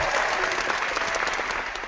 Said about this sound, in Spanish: voy a aplaudir